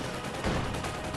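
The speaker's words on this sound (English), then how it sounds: "between my machine gun and the mounting Bettys that are going off" Machine gun fire in the Company of Heroes 2 World War II strategy game, a dense continuous crackling burst of gunfire and blasts filling the short moment.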